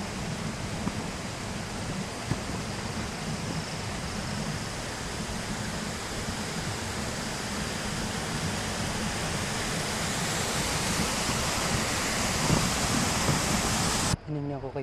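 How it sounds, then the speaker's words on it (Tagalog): A mountain waterfall on a bikepacking climb near Bessang Pass, about 1,200 meters up, roars as a broad, steady rush of falling water throughout, close and loud, with no pauses until a brief disturbance at the very end. "Another waterfalls."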